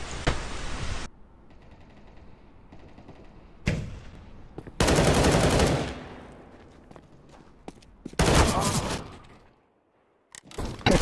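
Gunfire in Counter-Strike: Global Offensive, loud bursts of automatic fire in several separate volleys with quiet gaps between them, close and sharp, and no talking over it.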